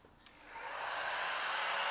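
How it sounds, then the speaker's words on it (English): A heat gun starts up and blows steadily while vinyl wrap is warmed on motorbike panniers, a rising airy whoosh that settles into a loud constant hiss with no talk. "So you need a heat gun."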